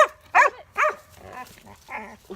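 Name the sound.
dog barking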